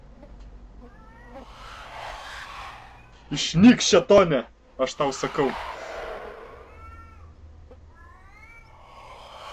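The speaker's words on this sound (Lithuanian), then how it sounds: "Dar ta katė kažkur staugia aš fone." A cat yowls in the background of a horror game, with drawn-out wavering cries at the start and end while someone talks loudly over the middle.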